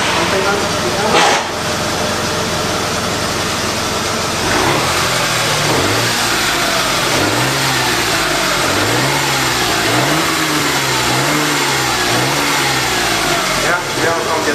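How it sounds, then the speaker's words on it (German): A Smart 450 ForTwo engine revs repeatedly in rising and falling pulses during cooling-system bleeding, fairly close and loud, over a steady idle, with someone talking over it. "Wenn ich jetzt mal ein bisschen Gas gebe"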